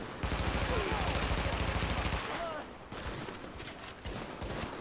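Gunfire in the video game The Division: loud, dense automatic bursts and overlapping shots rattle for about two seconds, then continue more sparsely and quietly.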